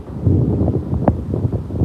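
Gusty wind buffets the microphone with low rumbling roar, steady and close, with brief rustling bursts.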